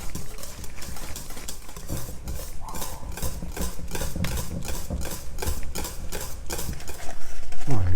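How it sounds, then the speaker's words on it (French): A spoon or whisk stirs eggs into New York cheesecake batter in a bowl, making a fast, regular, repeating scraping and slapping rhythm up close that grows louder toward the end. "On ajoute les 3 œufs directement. On va encore bien mélanger."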